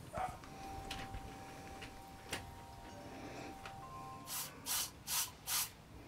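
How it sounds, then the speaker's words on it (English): Four short hissing spray bursts from a pump bottle over plants in a butterfly garden in quick succession near the end, after a quiet stretch with a few faint ticks and taps. "And then I'm going to spray all these guys."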